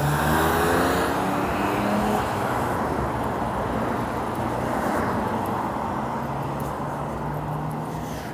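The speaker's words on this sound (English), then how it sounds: "Right here is very busy street, and sometimes many cars don't stop" Steady stream of cars on a busy city street at Sunset Plaza, engines rumbling and swelling as vehicles pass close by, continuous and fairly loud with no talking.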